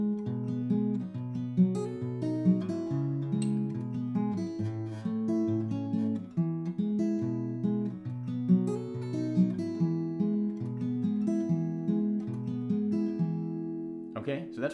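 Fingerstyle acoustic guitar picks out a song with index and middle fingers, a steady alternating bass under melody notes, played solo, close and moderately loud for about fifteen seconds.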